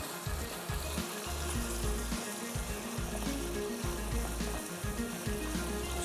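Masala spices roasting in a pan for a cooler punch drink, giving a steady close sizzle and crackle with a low rumble, continuous and fairly loud throughout, with no talking.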